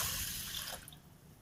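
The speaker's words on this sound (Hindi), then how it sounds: "ताज़ा पानी फिर से हम डाल देंगे" Fresh water pours steadily into a vessel of soaking rice, a close, even splashing rush that softens slightly toward the end.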